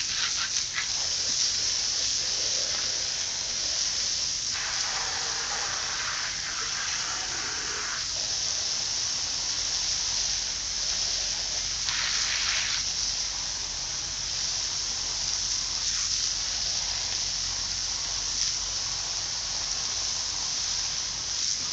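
Water sprays steadily from a garden hose during pond cleaning, a constant close hiss that swells into louder splashing bursts now and then, with no speech.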